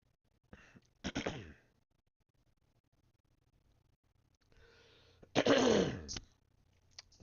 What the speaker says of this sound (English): Decided to start coughing just as I started the stream.